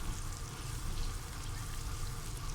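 Cream poured into a pan of chicken jalfrezi, a soft continuous pouring rush with a faint sizzling undertone, short and steady.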